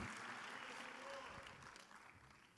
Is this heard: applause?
yes